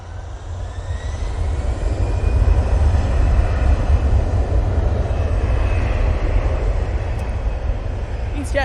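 An Air Tanker aircraft at Manchester Airport gives off a loud, steady, broadband engine roar that holds strongly throughout, with a deep low rumble, heard near and alone.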